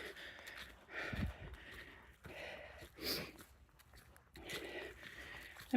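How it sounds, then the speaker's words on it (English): Close, heavy breathing of a trail runner with rhythmic breaths and occasional sniffles, faint and airy, with light footsteps or movement underneath. "you guys have to listen to me sniffle and breathe."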